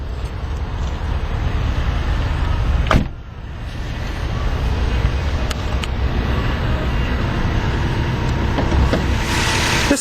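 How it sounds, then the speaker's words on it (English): One-touch power windows on a 2011 Nissan 370Z NISMO whir steadily in motion, a sustained motor hum broken by a brief dip near the middle before running on again. "Both the driver and passenger window are automatic one-touch in both directions."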